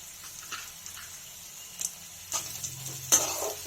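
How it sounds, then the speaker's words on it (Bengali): Bread upma vegetables with green chillies and peanuts are stirred in a pan over low heat, a quiet sizzle broken by a few sharper scrapes and clinks of the spoon, no talk. "এটা ভালোভাবে আমি নেড়ে নেব।"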